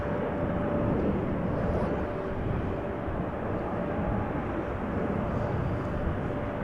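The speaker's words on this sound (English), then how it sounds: "we already saw an EasyJet also approaching the runway threshold to take off behind the ITA Airways" Jet airliner engine roar at Amsterdam Schiphol Airport, a steady, loud broadband rumble with a faint whine on top, continuous throughout as an aircraft moves near the runway.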